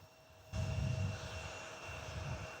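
Engine noise from a JetBlue jet at Nashville International is faint at first, then jumps to a louder low rumble with a thin whine above it, and stays fairly steady to the end.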